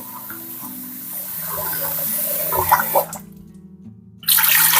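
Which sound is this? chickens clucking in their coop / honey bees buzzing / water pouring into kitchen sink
water pouring into kitchen sink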